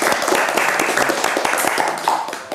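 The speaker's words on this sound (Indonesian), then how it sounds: "sekarang tepuk tangan dulu." Children clap their hands together during a storytelling session, a short burst of brisk, fairly loud clapping lasting a couple of seconds.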